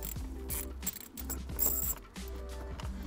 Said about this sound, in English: we're going to need to unscrew this bolt right there